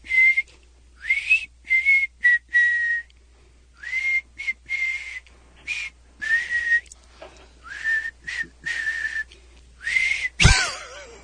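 A man whistles a song on a radio show, a run of clear melodic phrases with short pauses between them, close and fairly loud, ending with a brief sharp noise.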